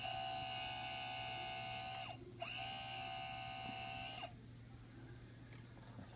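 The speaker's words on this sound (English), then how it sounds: "So I just wanted to show the electronics and the noise works, or the motor." Electric motor of a 1978 white Star Wars TIE fighter toy, a steady buzzing whine with a sharp tonal drone that stops briefly, resumes, then cuts off, leaving a faint hum; close and alone.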